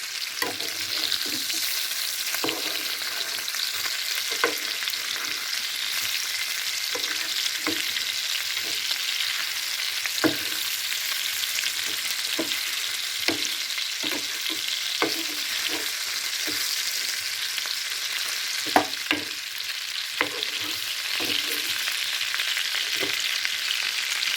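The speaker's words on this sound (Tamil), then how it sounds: "கொஞ்சம் மெதுவாக மெதுவாக நம்ம வதக்கிட்டு திருப்பி போட்டுக்கலாம்" Large fish pieces frying in a pan, a steady loud sizzle running throughout with regular scraping knocks as the pieces are stirred and turned over.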